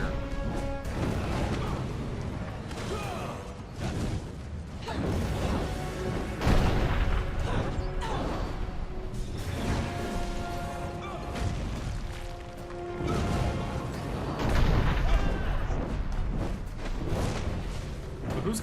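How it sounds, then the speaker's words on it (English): Repeated heavy booms of cannon fire in the video game Dungeon Siege 3, amid dense crashing battle noise, loud and continuous with bursts every few seconds. "Who's controlling the cannons?"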